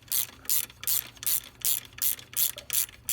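A tool clicks through repeated short strokes while loosening a rear set bolt on a Moto Guzzi V9 Bobber, about eight evenly spaced ratcheting bursts close by with no talk.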